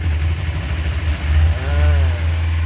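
A carbureted Kawasaki Ninja 250 engine idles with a low, throbbing rumble, then climbs in a brief rev and holds there before easing back, heard close up with no voices.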